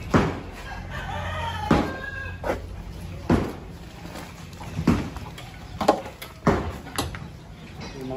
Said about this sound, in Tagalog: Yung mga manok rin guys.